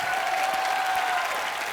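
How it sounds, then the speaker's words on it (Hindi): A studio audience at a televised comedy show claps loudly and continuously, a dense wash of applause with a faint tonal whistle running underneath. "जोरदार तालियों से स्वागत कीजिए"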